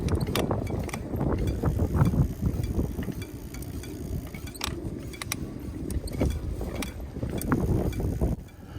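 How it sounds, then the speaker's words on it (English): Loose spokes on an e-bike wheel rattle and clink like wind chimes as the wheel turns, a busy, irregular metallic jangle over low rumbling mechanical noise, close and continuous. "If your e-bike is making wind chime sounds like this,"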